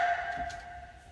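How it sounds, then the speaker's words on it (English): A deep, low percussion sample sounds alone as one short hit with a sustained tonal ring over a soft low thud, fading gently across about a second in an electronic production setting. "So that's like a deeper sound."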